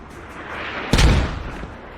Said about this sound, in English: This is their commander mortar.